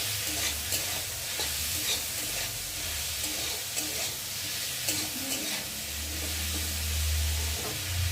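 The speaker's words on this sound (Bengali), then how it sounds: "আলুটা লাল লাল করে ভেজে নেব" Potatoes frying in a pan for chow mein, a continuous sizzle broken by repeated scraping stirs of a utensil against the pan, close and steady.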